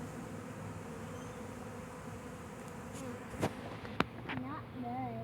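Bees from a swarm fly around a hive box outdoors, a soft buzzing hum that rises and falls, with a couple of brief sharp clicks and a faint passing buzz near the end.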